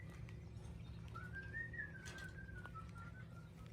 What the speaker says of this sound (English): You hear the whistling.